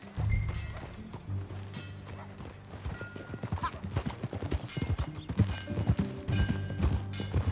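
Horse hooves clip-clopping in Red Dead Redemption 2, a steady close rhythm of hoofbeats with a whinny and low game ambience as the rider sets off.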